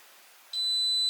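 An electric cooking hob showing error H gives a single sustained high-pitched electronic beep that starts abruptly and holds steadily, clear and alone over faint background hiss.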